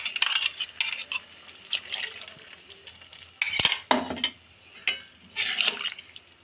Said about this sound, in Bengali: এবার মা আর একটু নেড়ে নিল